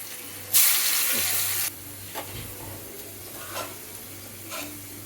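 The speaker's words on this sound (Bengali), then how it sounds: "তারপরে এটা তেলটা গরম করে ছেড়ে দিতে হবে আলুগুলো।" Chopped potatoes tossed with turmeric, chili and salt are frying in hot oil for french fries, a steady sizzle with a loud hissing burst early on and a few soft clinks of a utensil, close and without talk.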